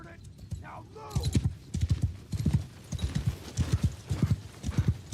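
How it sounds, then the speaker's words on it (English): Horses gallop in the Warhammer Old Realms video game, a rapid rhythmic clatter of hooves that starts after a brief whinny and runs steadily under faint battle noise. "Horsemen, get moving! Riders, onwards! Horses, move!"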